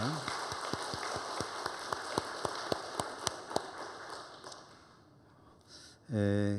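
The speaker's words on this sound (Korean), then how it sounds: "우리 목사님에게 감사의 박수를 한번 드리도록 하겠습니다" A church congregation applauding a visiting pastor at an evangelism department worship service: a steady wash of clapping with distinct claps standing out, fading away before a voice begins at the end.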